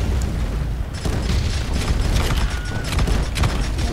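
Cannon fire from pirate ships in the Roblox game Pirate Clash, heavy booming blasts that overlap in a continuous loud rumble with bursts and crackles, up close.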